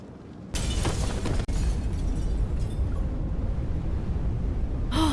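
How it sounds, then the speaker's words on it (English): In the Love and Deepspace game, a sudden loud explosion bursts with shattering glass, then a rumbling roar continues as debris crashes, with another sharp burst near the end. "In the distance, a series of explosions erupts from above."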